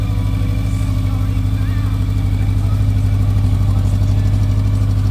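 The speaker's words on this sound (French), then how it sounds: "Magnifique son. Vraiment, les échappements font un son incroyable." A 2019 Honda CB1100 EX with its air-cooled 1100 cc engine and stock exhausts idles close by, a steady deep pulsing thrum with a strong low rumble and no revving.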